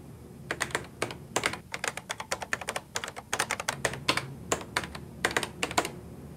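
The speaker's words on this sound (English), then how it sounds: "Pressing the blue code key plus C centers whatever you type next." Quick keystrokes on a 1987 Panasonic word processor keyboard, clattering close up in irregular bursts and single taps with short pauses, with no talking.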